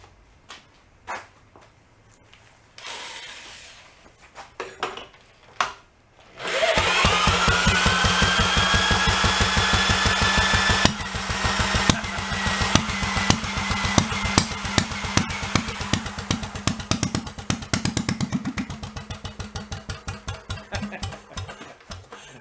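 A 1943 Briggs & Stratton model ZZ small engine is hand-cranked with a few sputtering attempts, then fires up and runs with a loud, rapid, steady chugging beat before winding down to slower uneven firing.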